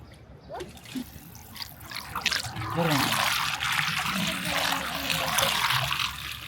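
Water held back after rain is released and runs and trickles steadily, a broad splashing rush growing louder after the first seconds, with voices talking over it.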